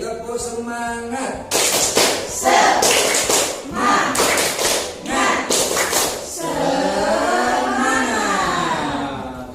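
A classroom of students doing a tepuk semangat rhythmic clapping routine, with bursts of loud, near claps in patterned groups broken by short pauses, then a voice speaking alone at the end.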